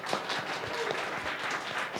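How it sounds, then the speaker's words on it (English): A conference audience claps for a speaker in a short, dense burst of applause, steady and full throughout. "Give him a bit of applause"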